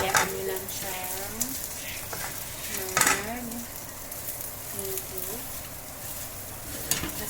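Chopped onion and garlic sizzle softly in a hot pan, a steady low frying hiss with occasional utensil clinks and stirring, while a cook talks over it.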